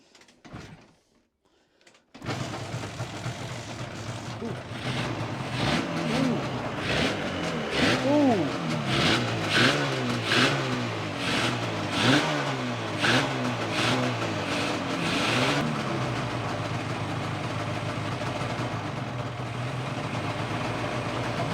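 Yamaha RD500 two-stroke motorcycle engine kicked over with choke on, catching after a brief quiet start, then running loud and close with a rough burbling idle and repeated revs blipping up and settling across the clip.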